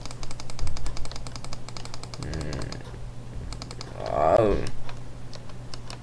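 Rapid, loud clacking from a nearby keyboard, with a short pause in the typing while a voice speaks briefly.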